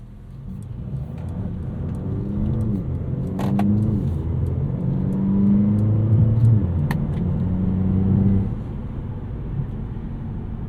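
A 2024 Mercedes CLA 35 AMG coupe, 302 hp, with its turbocharged engine revving up and holding high revs for several seconds before the revs drop, heard from close by with a steady low drone and no talking.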